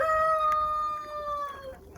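A little show rooster, a Buff Orpington or Pekin/Cochin bantam, crows close by in one long, sustained, wavering call that slowly trails off, with no talking.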